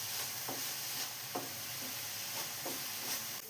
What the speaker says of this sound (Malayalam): ഇനി സവാള ഒന്ന് കളർ മാറി വരുന്നവരെ വഴറ്റിയെടുക്കാം